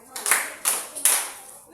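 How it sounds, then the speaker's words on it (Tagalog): A class gives three crisp, evenly spaced claps in unison, each one a sharp, bright burst with a short fade in a quiet room. "bigyan si Jessa at tabi ng 3 palakpak"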